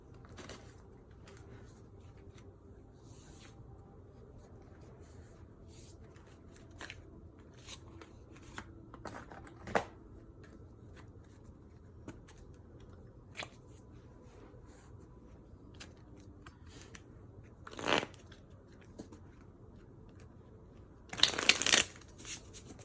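Tarot shadow cards being shuffled in soft, continuous riffling and sliding, with a few sharper card snaps and a louder flurry of shuffling near the end, no talking.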